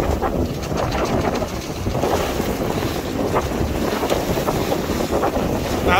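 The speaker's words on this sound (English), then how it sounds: "Well, whatever's causing it, it's quite windy." Strong wind buffeting the coast near Rame Head and Cawsand, a loud constant roar and rumble of gusts across the microphone, with a hint of waves beneath and no talk.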